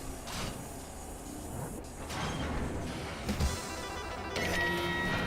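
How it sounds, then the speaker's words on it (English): The classic map door in DOOM (2016) on the Argent level grinds open after a lever pull: a sustained mechanical rumble and whir with a metallic shift partway through, then a bright ringing tone near the end. "there's the lever to open the classic map door"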